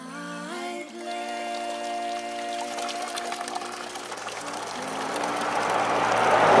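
Water pours from Shucknall Spring into a bottle being filled, a steady trickle that rises in pitch as the container fills, with a short tonal sound at the start and no speech.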